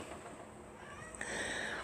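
A male cat meows in a quiet indoor room, a single soft call that swells louder near the end of a short, faint clip.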